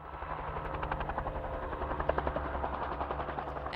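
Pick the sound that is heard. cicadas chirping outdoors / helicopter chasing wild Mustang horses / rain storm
helicopter chasing wild Mustang horses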